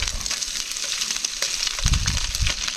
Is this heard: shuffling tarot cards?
no